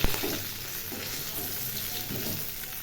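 Nigella seeds tempering in very hot oil in a home kitchen pan before fish curry, a steady crackling sizzle held close and loud throughout, with a few brief louder spits and no talking.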